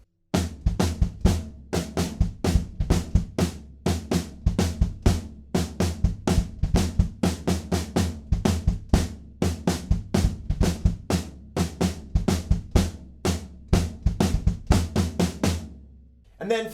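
A simple kitchen sink drum pattern played on a kit with the bass drum, a steady run of loud, evenly spaced hits repeating close up for about sixteen seconds with no voices.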